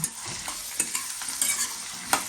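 Chopped vegetables are sautéed in a pan, with a close, steady sizzle under repeated scraping strokes of a spoon stirring them and occasional brighter clinks against the metal.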